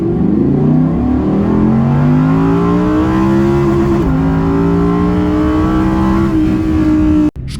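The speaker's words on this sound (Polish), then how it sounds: "ten silnik kręci się do niemal 9000 obrotów, robiąc cudną odcinkę" An Audi R8 Coupe with a 5.2-litre V10, rear-wheel drive, revving hard and close, its loud rising howl climbing through several stepped pulls before cutting off abruptly at the end.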